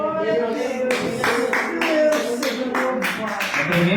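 Church congregation applauds together in rhythmic bursts, loud and close, over a sustained musical tone, with voices mixed in.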